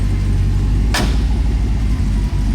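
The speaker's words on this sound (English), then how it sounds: "Listen to this door shut too." A Corvette C2 restomod's door slams shut once: a single sharp, loud thud cutting through a steady low engine rumble that carries on before and after.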